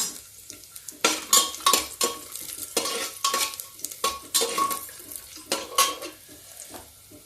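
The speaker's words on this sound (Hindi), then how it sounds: "लहसुन को हम ज्यादा नहीं भूनेंगे" Garlic sizzling in a pan while a metal spoon stirs and scrapes it, several loud rhythmic clatters over a constant frying hiss, close and without voices.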